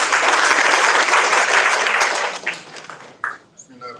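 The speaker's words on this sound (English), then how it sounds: "Please, can we give him a round of applause?" A crowd at a book launch applauds loudly and steadily, then the clapping thins out and fades as a voice begins speaking.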